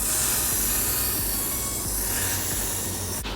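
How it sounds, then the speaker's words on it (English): A steady, close hiss of Got2b aerosol hairspray runs continuously for about three seconds, ending abruptly. "take the Got2b spray and spray it on top of that."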